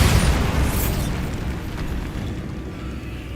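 A Bombarda spell explodes in the Hogwarts Legacy video game: one loud, close blast with a deep booming low end, then a rumbling decay that trails off over a few seconds.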